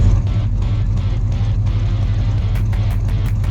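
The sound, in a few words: 1971 El Camino engine running on a dyno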